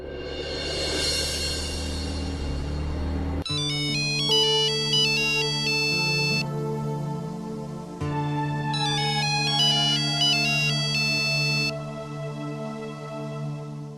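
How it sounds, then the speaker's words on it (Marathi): A mobile phone's musical ringtone plays loud and close, its bright melodic phrase repeating in two clear cycles over a sustained backing tone, with no talk over it. "तुमचा फोन वाजतोय."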